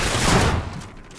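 Gunfire in the Call of Duty Ghosts online match on the Whiteout map, a loud burst of close shots blurring into a noisy crack that quickly decays into fading echoes.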